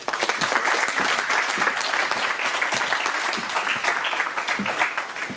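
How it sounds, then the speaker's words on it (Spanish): Sustained applause from an audience at an institutional award ceremony in Losar, greeting a speaker from the Carlos V routes cooperation network, steady and fairly loud throughout with no talk over it. "Un fuerte aplauso para él."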